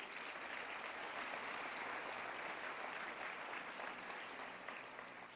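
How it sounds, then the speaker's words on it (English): Steady applause from an audience at an annual nonprofit celebration evening, a dense wash of clapping that holds at an even level for about five seconds before easing slightly. "Yeah, round of applause,"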